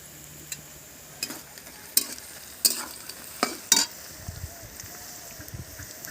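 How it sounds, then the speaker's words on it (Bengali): Onions fry with a faint sizzle in a pan, broken by several sharp scraping and clinking stirs spaced a second or so apart, close and quiet. "পেঁয়াজ হাফ ভাজা হয়ে গেছে"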